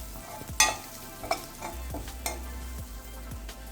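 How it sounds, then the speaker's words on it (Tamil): Grated coconut being stir-fried in a pan for a sweet somas filling, with soft scraping strokes and a few sharp clinks of a spatula against the pan over a low background hiss. "இப்போ பாருங்கள், தேங்காய் நல்லா வதங்கிடுச்சு, நல்லா பூவாட்டம் ஆயிடுது."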